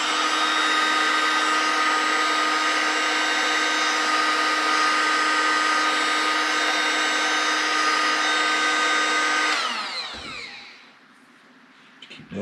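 A hair dryer blows hot air onto wet epoxy on a fishing rod reel seat, a loud steady whirring roar that runs unbroken for about ten seconds, then cuts off and winds down into quiet handling noise.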